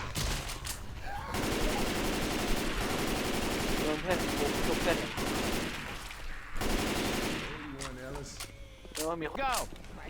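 Rapid automatic gunfire from Left 4 Dead 2 rattles almost continuously in dense bursts. Excited players talk loudly over the shooting throughout.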